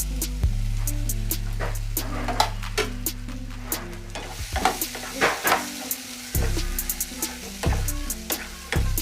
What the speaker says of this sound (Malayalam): ആ പാനിൽ തന്നെ നമുക്ക് ഒരിത്തിരി നെയ്യ് ഒഴിച്ച് കൊടുക്കാം.